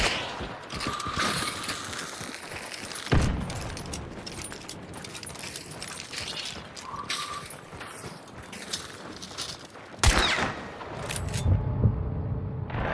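Bursts of video game gunfire crackle in rapid clusters alongside metallic clicks and mechanical rattles, fairly quiet, with a sharp louder burst near the end.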